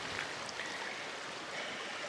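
A creek on a hiking trail flows steadily with a broad, continuous wash of running water close by, sustained at an even level with no breaks or voices.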